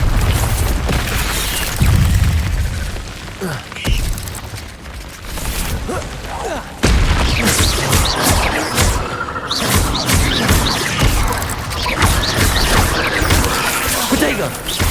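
An Incendio fire spell is cast in Hogwarts Legacy on PC, its fiery bursts and booms packed into a loud, continuous mix of combat effects and sound, with a sharp jolt near the middle.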